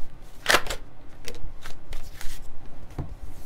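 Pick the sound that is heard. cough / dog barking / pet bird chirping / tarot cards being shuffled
tarot cards being shuffled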